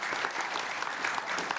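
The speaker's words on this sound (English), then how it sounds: "that's worth applauding" An audience at a leadership forum on human rights applauds, a soft, even patter of many hands clapping that sounds somewhat distant and steady throughout.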